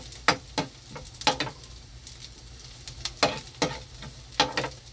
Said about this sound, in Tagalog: okay, igigisa natin siya